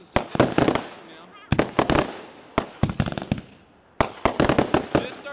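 Fireworks going off in a mishap, a big accidental blast: clusters of sharp crackling bangs in several rapid bursts, loud and close, with people's voices audible between the volleys.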